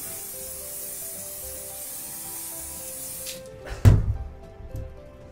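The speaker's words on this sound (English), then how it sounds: "so spray over the top" A steady hiss of spray over static grass on a scenery model runs for a few seconds, then cuts off, followed by a sharp knock and a short rattling clatter.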